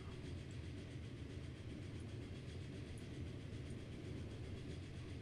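Steam locomotive in the Transport Fever game hauling a 235-ton train, with a steady, dense low rumble and rolling chuff that holds evenly throughout without pause.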